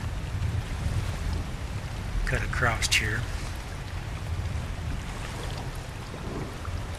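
A canoe glides through water in ARK: Survival Evolved on the Lost Island, a steady low wash of water and wind running throughout, with someone talking briefly in the middle.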